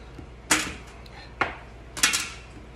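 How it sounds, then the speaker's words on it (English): Knife cutting gnocchi dough into sections on a tray, three sharp, distinct taps of the blade against the tray at irregular intervals, close and clear over a quiet background. "So, cut the dough in sections."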